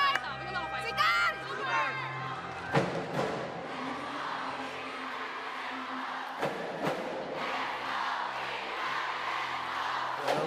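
Creamline volleyball fans cheer and chant in an arena during a PVL All-Filipino Conference match against Cignal, a loud, continuous crowd roar with shouts and sharp spikes, mixed with nearby voices.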